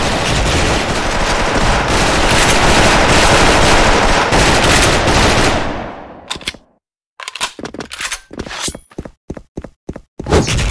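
SKULD FN FAL rifle in a shooting video game fires loud, rapid continuous bursts for several seconds, then breaks into a string of separate sharp single shots with short gaps between them.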